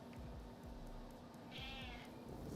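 A cat meows in a room, one drawn-out cry at moderate volume over steady background noise.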